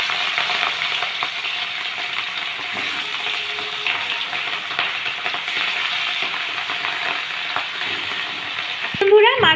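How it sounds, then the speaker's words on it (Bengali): Katla fish pieces frying in hot mustard oil, a loud, continuous close-up sizzle and crackle that runs steadily throughout, with a brief clatter near the end. "এখন আমরা কাতলা মাছের পিসগুলো ভেজে"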